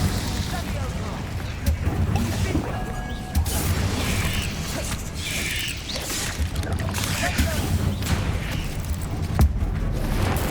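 Incendio fire spells cast again and again during combat in Hogwarts Legacy, their bursts and mechanical crackles merging into a dense, continuous wash of battle noise with dull booms throughout.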